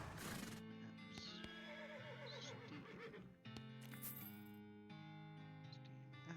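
A horse whinnying and hooves clip-clopping in a Western video game, faint and mixed with game effects and background music, the neighs coming in short bursts.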